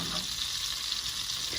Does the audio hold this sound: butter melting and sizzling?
yes